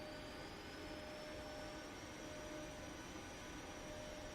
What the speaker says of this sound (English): power up the engines a little bit.